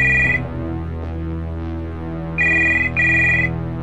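A phone rings in a text-based horror video game, two electronic trill bursts separated by a pause, heard over a low droning hum.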